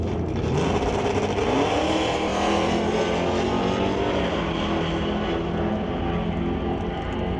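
Drag racing at a Super Pro event, a Willowbrook Motors Dodge Dart and a Chevy II roaring off the line together, a loud sustained engine roar that rises and stays heavy through the run, with no voices.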